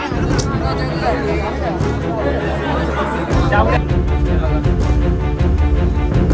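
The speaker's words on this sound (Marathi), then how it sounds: "या गर्दीत उभा आहोत," Dense crowd packed at the Raigad fort ropeway during the Rajyabhishek Sohala, a loud continuous babble of many voices with shuffling and occasional knocks, close and steady throughout.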